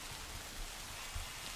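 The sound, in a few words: rain in Minecraft video game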